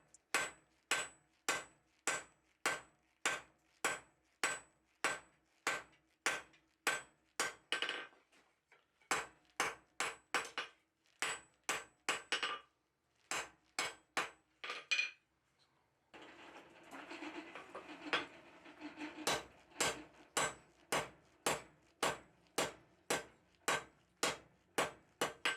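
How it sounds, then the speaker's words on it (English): Hammer blows forging steel tong blanks from 1/2-inch square bar ring out in fast, regular, close metallic strikes, with a few brief pauses and a stretch of rougher noise midway before the rhythmic hammering resumes. "So I can start forging out a lot of that mass in the middle"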